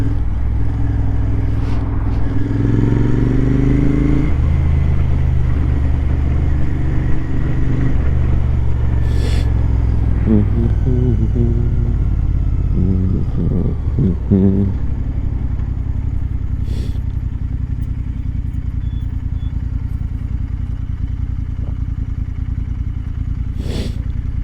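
A cafe racer motorcycle is ridden, its engine droning steadily up close with rising and falling revs through gear changes, wind rushing past and occasional clattering bumps.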